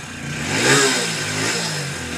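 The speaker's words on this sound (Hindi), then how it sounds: "अब चलिए यहाँ सेल्फ से हम बाइक को स्टार्ट करें देखिए बाइक एक ही सेल्फ में स्टार्ट हो गया" A BS6 motorcycle engine fires up on the self-starter and settles into a loud, close, steady running note with a slight rev swell, no talking over it.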